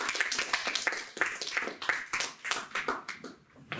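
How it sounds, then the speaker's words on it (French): Scattered applause from a modest audience at the close of a French lecture on train stations and cities, individual hand claps standing out in an uneven, fairly quiet patter that thins toward the end. "on peut t'applaudir"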